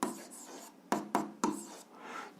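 Pen strokes while writing math by hand, a few sharp quiet scratches in a short sequence with soft scribbling between them, in a quiet room.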